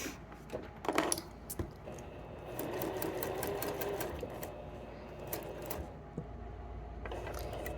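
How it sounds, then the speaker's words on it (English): Sewing machine stitching pieced quilt blocks together, a steady mechanical whir with rapid needle clatter running through most of the clip, close and moderately loud, with a few brief knocks early on. "now we're going to line this up and we're going to stitch."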